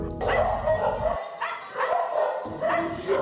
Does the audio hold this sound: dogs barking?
yes